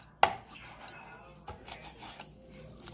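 Sharp knife strikes chop a bunch of cilantro on a cutting board while pico de gallo is prepared, with a handful of crisp, separated thuds that are fairly faint and close.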